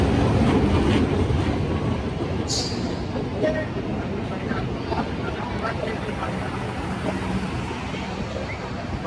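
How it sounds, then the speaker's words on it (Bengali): Local passenger train pulling into a station in the evening, a steady heavy rumble of wheels and carriages with crowd noise in the background. "আপনাদেরকে এখন যে ট্রেনটা আসছে এটাও হয়তো ভাঙ্গার উদ্দেশ্য ভাঙ্গা পর্যন্ত এই ট্রেনটা যাবে"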